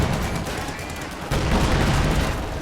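A grenade and gunfire in the World War II strategy game Company of Heroes 2, with dense continuous battle noise and a sudden louder blast partway through, followed by sustained crackling fire.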